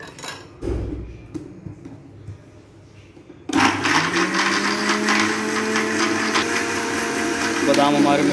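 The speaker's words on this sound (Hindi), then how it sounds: "सबसे पहले हम बादाम जो है जूसर मशीन में ऐड करते हैं।" A juicer machine grinds almonds, kicking in abruptly partway through with a loud, steady motor whine and grinding rattle that holds to the end, after quieter handling noises and brief sounds before it starts.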